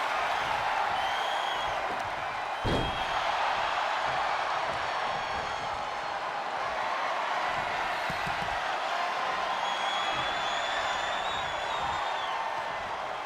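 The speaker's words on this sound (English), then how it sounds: "what a rowdy crowd here, ladies and gentlemen" A rowdy wrestling-event crowd roars and cheers nonstop, a dense wall of voices that stays loud throughout.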